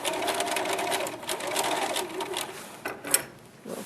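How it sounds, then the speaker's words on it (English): A sewing machine runs forward along a 5/8-inch seam on a body pillow, giving a steady close whirring with rapid needle chatter that slows and stops near the end. "You're going to sew forward a little bit."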